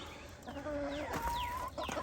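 Chickens cluck and squawk close by, several birds calling over one another in a busy, continuous farmyard chorus.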